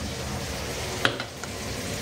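A ground paste of ginger and cumin goes into a hot pan and sizzles in a steady close hiss, with one sharp clack of a utensil partway through and a softer tap after it, and no talking.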